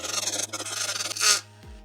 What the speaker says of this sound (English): I'm just going to finish these holes using the Dremel.